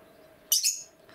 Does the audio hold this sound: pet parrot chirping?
yes